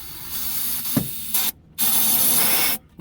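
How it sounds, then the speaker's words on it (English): Carburetor cleaner sprayed from an aerosol can into a carburetor tube on a long-parked AMC project car, heard as two loud sustained hissing bursts, the second longer, with a short pause between them. "So we're going to fill that up with, I use carburetor cleaner."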